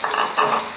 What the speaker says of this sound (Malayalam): 2 തക്കാളി ചെറുതായിട്ട് അരിഞ്ഞ് അതും കൂടി ഇട്ട് കൊടുത്തിട്ട് നന്നായിട്ടൊന്ന് വഴറ്റിയെടുക്കാം